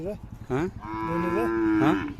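An Umrani bull moos loudly and close at a village fair, one long drawn-out bellow rising and falling in pitch.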